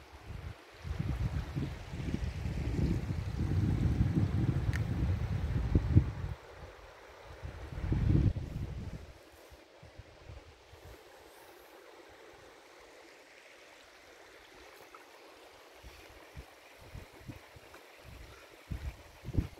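Floodwater of the Oyil river near Miyaly rushes along a reed-lined channel, a low steady flow heavy with wind buffeting for the first several seconds, then a quieter outdoor wash of moving water.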